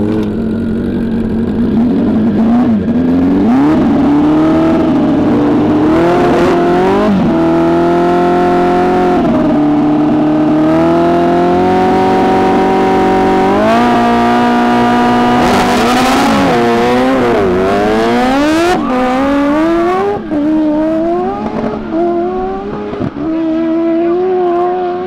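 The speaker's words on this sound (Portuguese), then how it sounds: "Full Power nessa moto que eu não tenho ideia qual é o nome." A motorcycle engine screams at full power during a top-speed record run, loud and close throughout, its pitch climbing and dropping through repeated gear shifts and surges.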